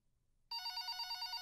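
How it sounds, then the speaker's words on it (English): A telephone starts ringing suddenly in the Five Nights with Mac Tonight video game, a bright, continuous electronic ring that follows a near-silent pause and plays on alone. "Why am I getting a phone call?"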